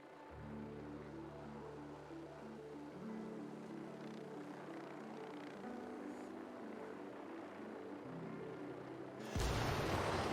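A helicopter in a video game drones steadily, its low rotor hum holding fairly faint and even, then swelling into a louder burst of noise near the end.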